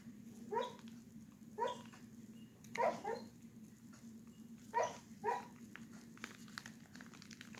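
Dogs bark in several short, faint bursts over a steady low hum, spaced irregularly across the stretch with quieter gaps between them.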